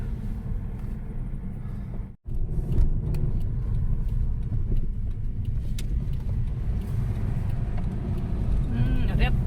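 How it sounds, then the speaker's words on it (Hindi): A soil-laden truck rolls along a main road past newly built houses, its steady engine rumble loud and close throughout, with a brief dip near the start and voices talking over it. "एक ट्रक जा रहा है उधर से, मिट्टी लेके"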